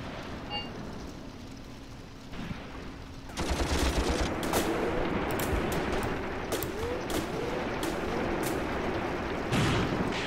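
Tank and artillery fire in a WWII tactical wargame sounds after a quiet opening, becoming dense, loud bursts of gunfire and booming blasts that keep up with rattling shots over the rest of the clip.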